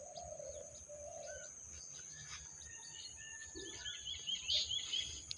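Birds chirp and call at around 6:30 in the morning among trees, with repeated tweets, a soft cooing dove and steady insect buzz, fairly distant and with no talk.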